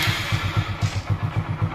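A Hero Super Splendor motorcycle, after repair of its self-start fault, is started with the electric starter and runs with a rapid, even, low chugging pulse. The engine is close and fairly loud, with no voices.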